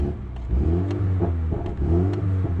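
A cold car engine revs repeatedly up close, held to 3,000 rpm, rising and falling in quick bursts over a steady idle rumble.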